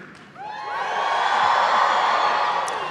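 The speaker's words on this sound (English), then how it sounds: "or loudly cheer" Commencement crowd at a university graduation cheers loudly, a swelling roar of whoops and shouts that rises quickly and holds strong to the end.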